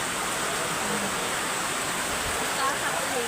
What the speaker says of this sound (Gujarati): મંદિરે પગતા પગતા વરસાદ આવી ગયો